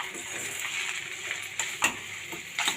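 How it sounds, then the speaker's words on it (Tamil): Dry pepper chicken being stirred in a frying pan, a soft steady sizzle with scattered scrapes and light clinks of a utensil against the pan, close and continuous with no talking. "இது எல்லாத்தையும் சேர்த்து நல்லா கிளறி விட்டுக்கோங்க."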